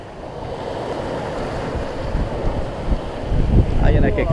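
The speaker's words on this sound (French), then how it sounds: "Des vagues surtout, du vent un peu" Aboard a sailboat cruising off Sardinia from Stintino in about 15 knots of wind, buffeting wind noise and surging waves build into a louder rush of water, with a brief voice near the end.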